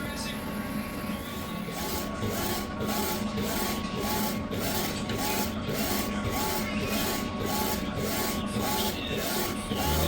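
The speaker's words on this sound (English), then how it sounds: "it's printing right now" A DTF printer runs steadily with a mechanical whir and a regular series of rasping carriage passes, about one each half second, close and continuous with no talking.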